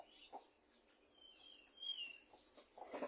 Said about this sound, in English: The birds are great, aren't they?